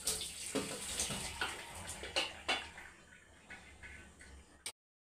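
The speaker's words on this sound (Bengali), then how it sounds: "এবার জলটা ছেঁকে নিলাম।" Boiled jackfruit is drained, with water splashing and trickling in uneven pours and drips, close and fairly faint, ending abruptly.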